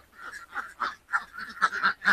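Ducks give a short series of nasal quacks, close and moderately quiet, in uneven bursts.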